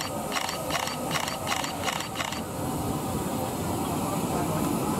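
LNER A3 Flying Scotsman steam locomotive, no 60103, passing at Corfe Castle, heard as a short burst of rhythmic chuffing beats for the first two seconds, then a steady rumbling roar of the train rolling by at moderate distance.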